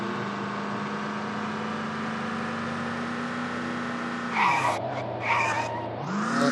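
Car in the zombie survival game VEIN skidding under the e-brake: a steady engine drone drops in pitch as hissy tire-scrub bursts break in twice near the end, then the revs climb again.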